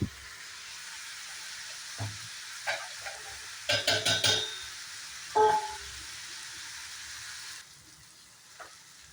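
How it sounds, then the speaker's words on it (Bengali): Raw spices frying in a pan give a soft, steady sizzling hiss, with a handful of sharp clinks and scrapes from stirring in the middle, and the sizzle eases off toward the end. "এই কাঁচা মশলাগুলো ফ্রাই হতে থাক"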